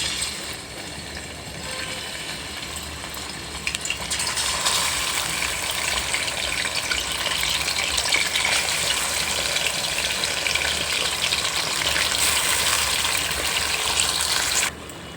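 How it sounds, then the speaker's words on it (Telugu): Chicken pieces fry in oil in a kadai for gongura chicken, a steady broad hiss that jumps louder after a few seconds and holds, close and continuous, with no voices. "చికెను వేయించుకుందామండి"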